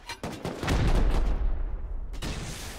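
Heavy gunfire during a team raid in Rust comes as a loud volley of overlapping shots with booming low-end blasts. It eases into a ringing tail, and a second burst cuts in near the end.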